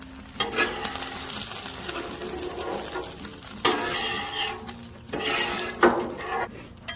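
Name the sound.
spatula sliding canned corn across Blackstone griddle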